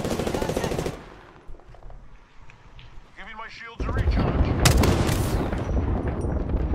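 Gunfire in the battle royale game Apex Legends, with a loud burst at the start, a quieter stretch, then heavy sustained shooting and booms in the last few seconds.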